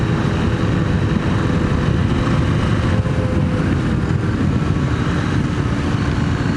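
KTM 890 Rally motorcycle ridden at full throttle with quick-shifts, a dense, loud, continuous engine roar mixed with wind rush, no clear gear-change breaks, no talk.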